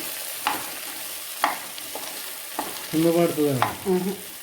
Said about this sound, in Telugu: ఇది అయిన తర్వాత కరివేపాకు వేసిన తర్వాత మంచిగా ఇట్లా తిప్పుకోవాలి.